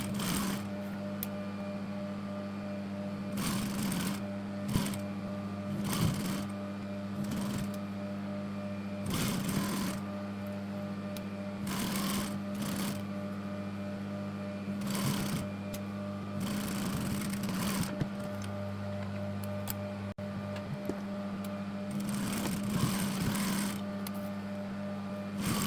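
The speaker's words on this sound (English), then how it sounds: "Sew both sides in place." A sewing machine stitches the sides of a cushion cover, whirring steadily in close, continuous runs broken by brief pauses and changes in speed.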